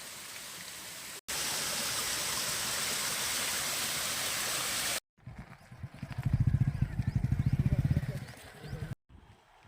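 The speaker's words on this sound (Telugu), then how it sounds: "ఇక్కడైతే మంచిగా వాటర్ అయితే ఫ్లో అవుతున్నాయండి, చూసారు కదా." Spring water from a hillside flows steadily near a tribal village, a loud continuous rushing wash, broken by brief cuts and then a rhythmic, pulsing stretch.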